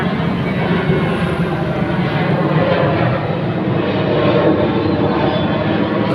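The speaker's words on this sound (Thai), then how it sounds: "ถ้านน้นเครื่องบินก็มา" An airplane passes overhead in a steady, broad engine roar that holds at an even loudness throughout, with no voices.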